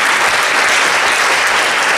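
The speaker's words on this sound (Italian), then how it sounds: "Un applauso al dottor Alù" An audience applauds Dr. Alù at the Prunola 2019 award evening, a steady dense wash of clapping filling the whole moment at close, even loudness, with no voices standing out.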